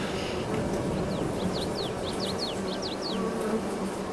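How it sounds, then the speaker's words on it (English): Bees buzzing around a beehive in Farming Simulator 22, a steady insect hum with short chirping tones over a constant ambient bed, no talk. "it holds 33 beehives inside the little bee house."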